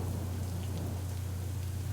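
Steady rain in a storm, a dense, constant hiss with a low rumble of thunder beneath it, heard alone with no voices.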